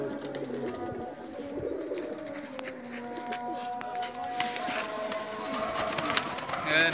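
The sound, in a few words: pigeons cooing, breeder pigeons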